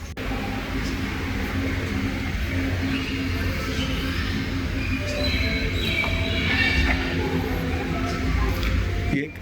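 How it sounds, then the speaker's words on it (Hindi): A tour tram rolls along at Singapore Zoo, a steady low mechanical rumble with a continuous hum running throughout, fairly close and even in level. "नीचे एक ट्राम की तरह टूर का ट्राम भी यहाँ पे अवेलेबल है, उसका मूवमेंट देखा"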